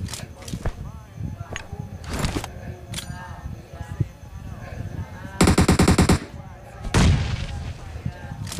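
Gunfire in the mobile battle-royale game PUBG Mobile: repeated automatic bursts and single shots, with one dense rapid volley near the middle and another near the end, under excited chatter from several players.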